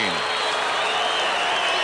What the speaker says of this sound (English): The crowd can be a little parochial, and on that occasion they gave the Bronx cheer to Filkey